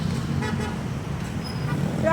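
Busy road traffic in a city street, a steady rumble of cars with a brief car horn toot partway through and another near the end, people talking over the noise.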